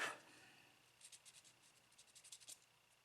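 Quiet, short rasping strokes of a sanding stick rubbing small areas of a model bust, repeated in quick bursts.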